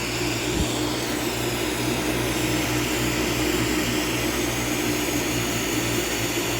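A glassblowing torch roars in a steady, loud, close rush of flame that stays even and continuous throughout.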